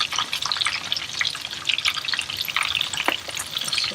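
Chicken thighs just turned over in a generous amount of hot oil, crackling and spitting in bursts of sharp pops over a busy sizzle, close and fairly loud, no talking.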